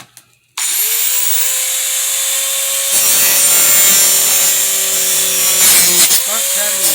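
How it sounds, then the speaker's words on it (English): A Dremel rotary tool spins up sharply and cuts and cleans a fiberglass helmet, a loud high whine with rising grinding and rubbing as the bit bites into the shell, close and constant. "I have a Sawzall Dremel here, which is what I use to cut and clean the fiberglass with."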